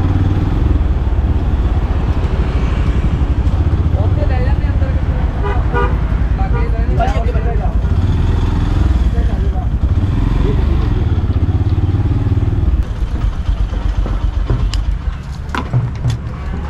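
Motorcycle engine droning steadily while riding to a photo fair in Punjab, India, loud and close with passing traffic and a honking horn, the rider's voice heard over it before the engine eases off near the end.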